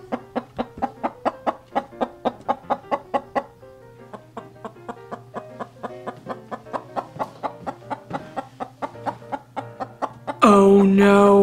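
A chicken clucks in a rapid, steady series of short calls, fairly close, ending with a loud burst of noise at the very end.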